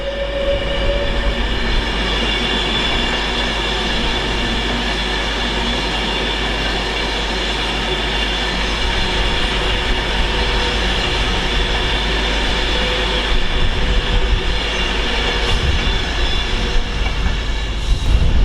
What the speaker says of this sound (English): If you were missing Pendolinos, one's just coming in there, and that is working from Edinburgh to London Euston